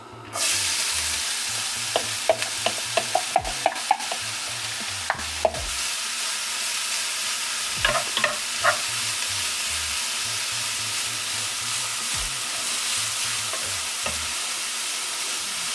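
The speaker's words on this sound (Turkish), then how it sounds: "Yağımız kızdı havuçlarımızı atıyoruz." Sliced carrots sizzle steadily in hot oil in a pan, a bright continuous frying hiss with a few sharp clinks of a utensil stirring scattered throughout.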